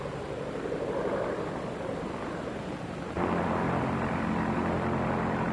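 Droning propeller aircraft engine, a steady low roar that suddenly grows louder and fuller partway through, as if a plane sweeps closer.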